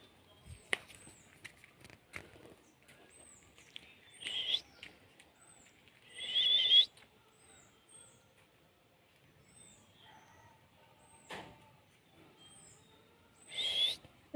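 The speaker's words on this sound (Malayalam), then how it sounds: "ഒരു ഭംഗിയുള്ളൊരു കിളി" A beautiful peacock-hued bird in a home garden gives short, bright chirps and whistles in scattered bursts, some sharper and louder than others, with quiet gaps between them.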